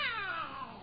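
A cat gives a single drawn-out meow, loud and close, sliding downward in pitch and fading over under a second, with no talking.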